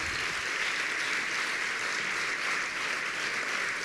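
Dense, sustained audience applause at the Ovidi Motllor awards ceremony, many hands clapping in a constant, even roar, loud and unbroken from start to finish.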